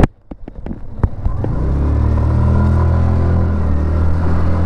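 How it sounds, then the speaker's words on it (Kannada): A 2025 Hero Xoom 125 Xtec scooter with a 125cc engine gives a few sharp clicks, then starts and settles into a loud, steady, close idling rumble. "ಇಂಜಿನ್ ಸೌಂಡ್ ಈ ಥರ ಕೇಳಿಸುತ್ತೆ"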